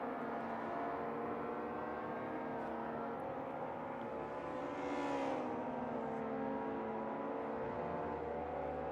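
Historic race car engine droning at sustained high revs down the Mulsanne straight in a Le Mans racing video game, a steady loud harmonic roar that swells slightly midway, with no talk over it.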